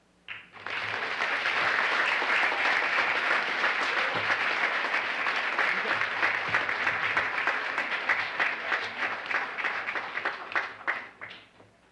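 Sustained audience applause at a Kid Governor inauguration in Connecticut's Old State House, a dense crowd of clapping hands that starts abruptly, holds loud and steady for about ten seconds, then thins out and fades.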